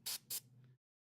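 Airbrush spraying red paint onto a figure model, two short, sharp hissing bursts close by, followed by a faint low hum that quickly cuts to silence.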